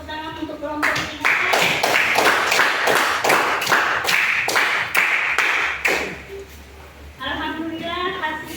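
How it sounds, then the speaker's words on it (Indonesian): A class of children claps for a group, rhythmic bursts of quick hand claps in regular beats, loud and close, with voices speaking before and after the clapping. "anak-anak semua tepuk tangan untuk kelompok 3"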